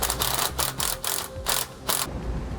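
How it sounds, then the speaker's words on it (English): A ratchet with an 11/16-inch socket tightens rear anti-sway bar hardware on a 2016 Ford F-53, sounding as a run of rapid clicking bursts in steady repeated strokes, close and fairly loud, with no talking. "Go ahead and tighten our hardware down. We're going to be using 11/16" socket."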